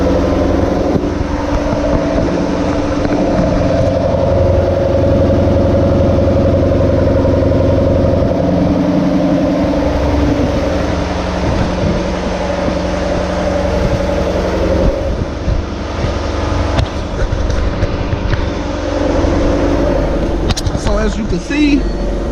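A Jaguar F-Type R sits idling after a cold start, its engine holding a steady, even low hum for the whole stretch without revving.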